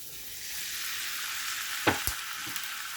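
Corn stirred into a pan of browning onions and garlic, a steady bright sizzle of frying with a few sharp scraping clacks of a utensil near the end.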